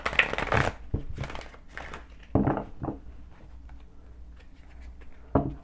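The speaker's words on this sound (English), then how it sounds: "Shuffle this deck." A deck of cards being shuffled in bursts during a reading, with riffling rattles at the start, a few more quick shuffles through the middle and a final short burst, fairly close and clear.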